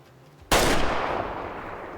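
A single rifle gunshot in the Way of the Hunter hunting video game, a sharp loud crack with a long rolling tail that fades over the next second and a half, heard alone with no talk.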